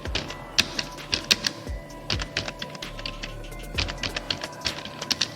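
Rapid keystrokes on a computer keyboard while entering resume skills into a Word document, irregular bursts of clicky taps and spacebar thuds, close and dry with no speech.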